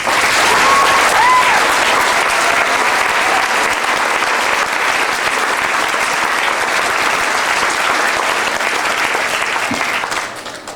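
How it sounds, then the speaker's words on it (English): An audience at a fifth grade graduation ceremony at Foothills applauds the teachers, a dense, loud, steady wash of clapping that holds for about ten seconds before tapering off at the end. "I'd just like to have a round of applause for all the teachers at Foothills."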